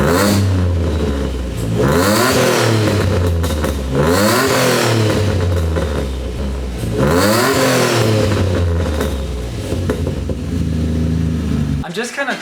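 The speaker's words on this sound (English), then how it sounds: "I was going to show you guys how it sounds now, just like a quick rev" A turbocharged car engine with a raspy exhaust is given several quick revs, each note climbing sharply and then falling back to idle. The revs are loud and close, with a steady engine drone between them.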